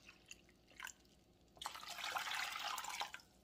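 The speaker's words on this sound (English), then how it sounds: "So we're going to put in 2 cups of apple cider vinegar." Apple cider vinegar poured into a bowl for a cucumber salad, a steady splashing liquid stream lasting about a second and a half after a few faint drips, then stopping.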